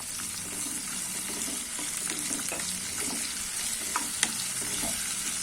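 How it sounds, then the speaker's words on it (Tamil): Tomatoes for a kathamba chutney sauté in a hot pan, giving a steady, close sizzle broken by occasional stirring scrapes and small pops. "இப்போ தக்காளி நல்லா வதங்கட்டும்."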